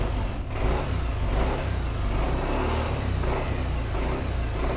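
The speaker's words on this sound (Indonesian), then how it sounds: "Motor sudah nyala, sudah bisa kita gas." A Yamaha Nmax scooter engine, running again after a starter bendix fault, revs steadily and loudly close by, with a continuous throaty drone.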